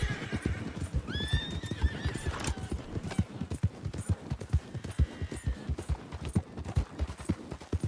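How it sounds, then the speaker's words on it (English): Wild horses in the Red Dead Redemption 2 game gallop with dense, rapid clip-clop hoofbeats throughout, and a loud whinny rises early on over the pounding, with fainter neighs later. "Wild horses."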